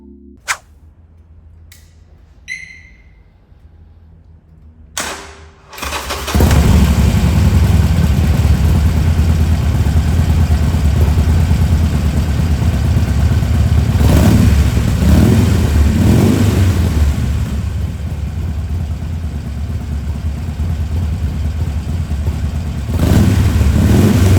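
After a few clicks and a brief starter whir, a Harley-Davidson Forty-Eight motorcycle engine fires up and idles with a deep, steady rumble, punctuated by several revving bursts.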